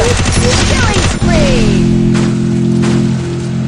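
A quick burst of rapid gunshots rings out in the battle royale game Free Fire, loud and close, then gives way to a lingering electronic hum with a few later single shots.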